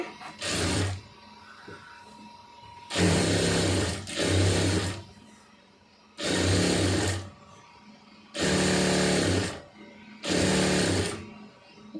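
A sewing machine stitches a cigarette pant in five separate bursts, each a loud, close, rapid mechanical whir lasting a second or two, with quiet pauses between them and no talking.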